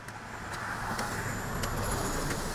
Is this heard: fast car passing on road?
yes